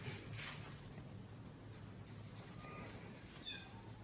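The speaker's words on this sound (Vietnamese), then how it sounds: "Em vừa nghe một cái tiếng con mèo nó kêu cả nhà ơi." A cat meows faintly a few times inside an abandoned house, the cries thin and distant over a low steady background hum.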